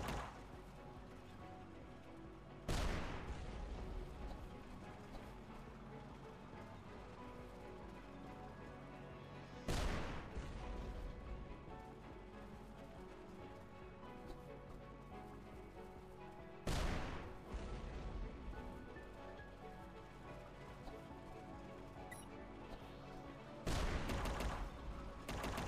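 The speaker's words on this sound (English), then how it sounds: "I should be at the point where I'm gonna get machine gun fire." Machine gun fire in the retro action video game UnMetal sounds as four loud bursts spaced several seconds apart over steady background game music.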